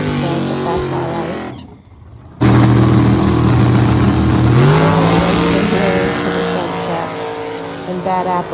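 Drag racing cars, including a green Nova, with engines roaring at high revs, a brief lull followed by a loud sustained blast of acceleration that rises in pitch, close and dominant throughout.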